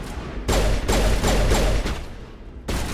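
Gunfire from a Mass Effect shootout in a bar: a loud burst of rapid shots with reverberant tails, then a pause before another sharp volley, with no talking over it.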